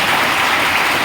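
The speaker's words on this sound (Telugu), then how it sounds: "గట్టిగా చప్పట్లు కొట్టండి." A church congregation claps hard and continuously at a Sunday service, forming a dense, steady wash of applause with no talking over it.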